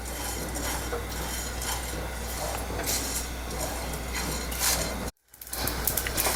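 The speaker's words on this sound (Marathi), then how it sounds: "आता हा अगदी मिनिटभर भाजून घेऊया आपण" Masala spices dry-roast in a pan as a spoon stirs and scrapes steadily against the metal, with a faint continuous sizzle. The sound cuts out briefly near the end, then returns.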